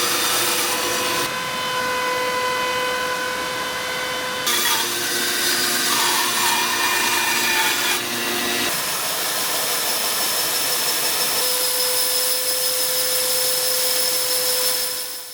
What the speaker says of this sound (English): I got to do a little bit more shaping with the bandsaw and some sanding